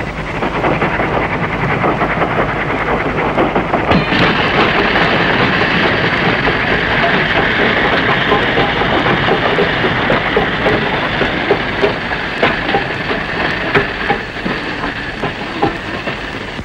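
A train runs along a railway with a loud, continuous rumble and a rhythmic clickety-clack of the wagons, close and sustained throughout with no voices over it.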